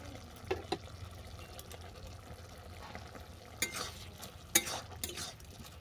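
Spoon stirring mustard paste into a bitter curry of ghime greens, puti fish and lentil bori in a pan: quiet wet scrapes and soft sizzle, with a few sharper scraping strokes near the end.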